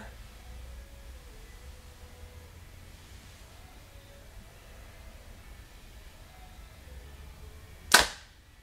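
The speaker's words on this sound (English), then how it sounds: "you can see that as I'm shooting that this bow's wanting to kick forward just a little bit" A Hoyt Axius compound bow fires once near the end, a single sharp snap and thump of the string releasing after a stretch of quiet room noise.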